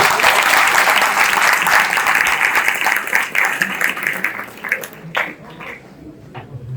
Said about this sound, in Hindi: एक बार तुम लोग के लिए भी तालियां हो जाएगा